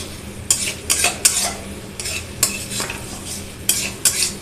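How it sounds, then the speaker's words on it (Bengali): Cabbage curry with spices is stirred in a hot pan: a spoon scrapes and clacks against the metal in repeated quick strokes over a low, steady sizzle, close up and with no talking. "মশলা দিয়ে ভালো করে মেখে নিচ্ছি।"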